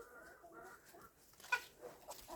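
Young Cochin hens cluck softly outdoors in a garden, with quiet, scattered clucks and one brief sharper call, faint and fairly close.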